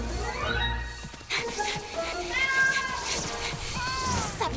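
A kitten meows repeatedly in a cartoon, stuck high up a tree. Several rising and falling cries come over a busy background of music and effects, with a voice talking at the same time.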